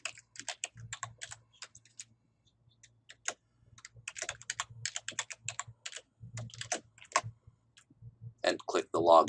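Rapid clicking of a computer keyboard as a username and password are typed in, keystrokes coming in quick clusters with brief pauses, close and crisp over a low steady hum.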